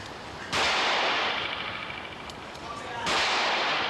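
Two loud, sharp gunshots about two and a half seconds apart, each fired at a target during shooting practice and followed by a long rushing echo that tails off.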